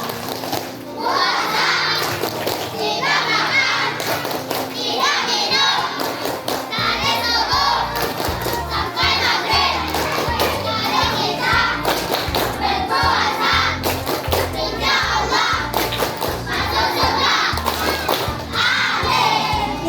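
A crowd of Indonesian elementary school children chants and claps together in a rhythmic 'tepuk puasa' pattern at a Ramadan school event, loud and lively, with thumping claps throughout.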